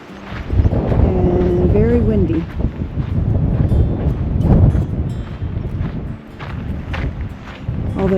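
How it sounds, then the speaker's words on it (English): Strong wind on a flat desert hiking trail in Joshua Tree National Park, loud low gusts buffeting and rumbling continuously, with a voice heard briefly among the gusts. "It's 62 and very windy."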